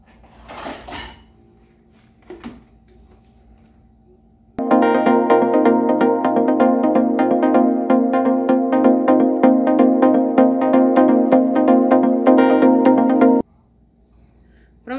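Electric blender whirring steadily for about nine seconds as it mixes a creamy cornmeal cake batter, loud and even with a strong motor tone, after a few faint clinks and handling sounds at the start.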